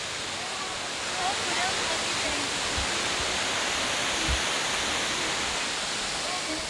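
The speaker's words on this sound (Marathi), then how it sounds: "मित्रांनो, आता आपण पानवलच्या धबधब्यावर पोचलेलो आहोत" Panval waterfall in Ratnagiri, a steady broadband rush of falling water, close and constant throughout, with a couple of faint low thumps and no clear speech.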